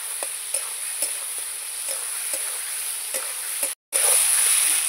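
Potatoes and spice paste sautéing in a pan with a steady close hiss of sizzling, punctuated by regular scraping strokes of a spatula, briefly cutting out before the frying resumes louder.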